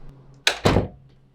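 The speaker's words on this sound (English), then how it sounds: "And that, ladies and gentlemen, is how you close a door." Hotel room door in the old Hotel Congress being shut: two quick close thuds, a light impact followed by a heavier bang, loud and near in a quiet room.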